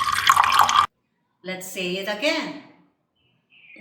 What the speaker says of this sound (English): She also heard the sound of a water coming from a faucet.